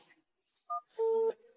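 Telephone keypad tones: a brief two-tone beep followed by a longer steady dual tone, dialed on a borrowed phone near a wedding venue, fairly quiet with faint sounds between.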